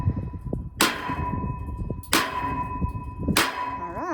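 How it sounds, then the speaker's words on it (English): A big sledgehammer strikes sections of a Versa Tube greenhouse metal frame, three loud ringing clanks about a second and a half apart, each with a lingering metallic tone, over wind noise. "which is the big sledgehammer, and he's hammering every other section"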